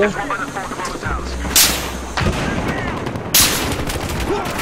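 Gunfire in Battlefield Hardline, with sharp loud sniper-style shots at irregular intervals over a dense, rumbling battle din, while a voice speaks over it.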